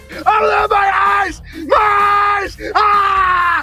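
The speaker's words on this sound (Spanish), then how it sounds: "un Cage atado gritando como un poseso mientras le vierten abejas por la cabeza" A man in a film scene lets out three long, strained screams in a row while bees are poured over his head, loud and close, each one cut off by a short gasping pause.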